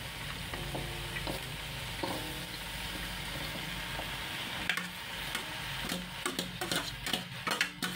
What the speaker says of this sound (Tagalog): Halu-haluin natin ang mga gulay.